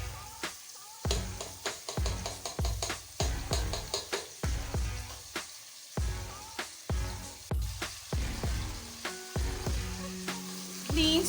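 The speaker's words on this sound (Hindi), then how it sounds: "तीन से 4 मिनट चिकन को अच्छी तरह फ्राई करेंगे। वक्फे वक्फे से चम्मच को चलाते रहेंगे" Chicken fries in a pan for aloo chicken shorba while a spoon scrapes and stirs it, a continuous sizzle broken by regular rhythmic knocks and scrapes, close and clear with no voices.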